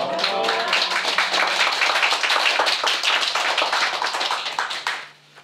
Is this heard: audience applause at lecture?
yes